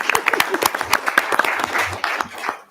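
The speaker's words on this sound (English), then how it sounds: "I'm gonna clap." Scattered hands clap at a town board meeting after a unanimous vote, a short, uneven patter of nearby claps with voices mixed in.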